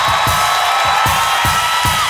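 A live audience at a comedy show in Barcelona claps and cheers, a loud, dense wash of crowd noise with rhythmic pulses recurring every fraction of a second.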